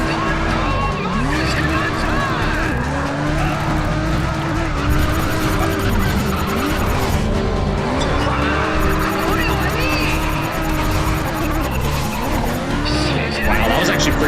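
Race car drifting in the video game Race Driver GRID, engine roaring steadily with long sustained tire squeal throughout, loud and continuous, with a voice talking over it.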